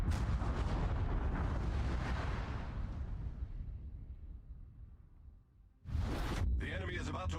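Naval turret gunfire in World of Warships, heavy rumbling booms that fill the first seconds and slowly fade, then a sharp new loud burst near the end, with commentators talking over the action.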